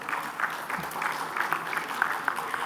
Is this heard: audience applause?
yes